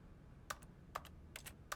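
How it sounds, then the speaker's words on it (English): Short bursts of keypresses on a computer keyboard in an office game setting, four or five quick clicks scattered across a quiet background, close and clear with no talk. "Why does it still sound like I'm chomping at a keyboard?"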